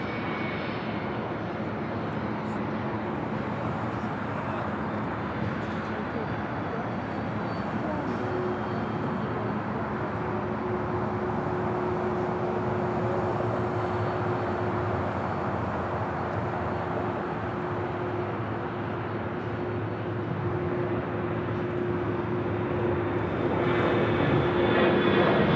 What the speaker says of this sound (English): Delta Airlines 567 is coming in from JFK on the 767-300 ER.